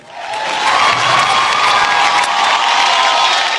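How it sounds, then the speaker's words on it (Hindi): A large audience at an awards show breaks into loud, sustained applause and cheering that rises quickly within the first half second and holds steady as a dense wash of clapping. "जोरदार तालियां फॉर स्टार गिल्ड अवार्ड"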